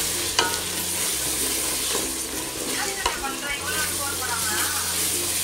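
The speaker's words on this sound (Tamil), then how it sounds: "இந்த பேஸ்ட்டையும் கொஞ்சம் நேரம் எடுத்து நல்லா எண்ணெய் பிரிஞ்சு வர அளவுக்கு வதக்கிக்கோங்க" Tomato and masala paste sautéing in oil in a pan, a loud, steady sizzle close by with occasional stirring scrapes and clinks throughout.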